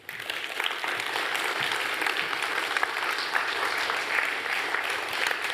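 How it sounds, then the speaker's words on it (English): Warm audience applause follows a spoken presentation, a broad, even patter of many people clapping together that starts abruptly and carries on steadily without fading. "I take it from your applause that you appreciate Helen's presentation"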